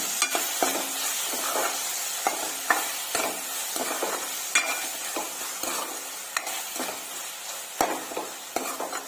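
Tomatoes frying in a pan with salt and turmeric, a steady close sizzle broken by frequent scraping knocks of a spoon stirring them.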